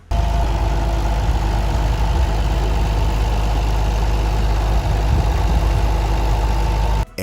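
White 2105 tractor with a Perkins diesel engine running steadily at a constant idle, a loud, low rumble throughout with no voices, cutting off at the end.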